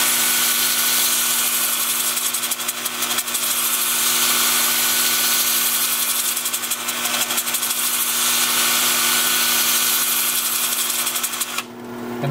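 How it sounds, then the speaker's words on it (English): An electric drill whirs continuously, sanding a turned wooden bowl, with a gritty rubbing texture, steady and close, briefly shifting near the end as the drill reverses. "And I'll reverse my drill."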